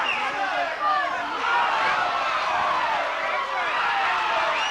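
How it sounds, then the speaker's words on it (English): An arena crowd at a pro boxing match roars steadily under close commentary, a dense, continuous swell of cheering and shouting that rises and falls slightly throughout. "The crowd is really starting to get into this one."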